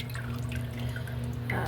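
Rendered leaf lard dripping from a ladle through cheesecloth into a jar, soft close drips over a low steady hum, quiet throughout.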